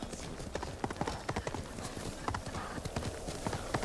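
Rapid hoofbeats of a galloping horse in the video game Ghost of Tsushima, steady and fairly close, with a brief whinny-like sound mixed in.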